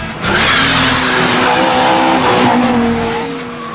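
A car skids and slides along a badly broken road, tires squealing over a loud, steady engine drone that holds for several seconds before easing off slightly at the end.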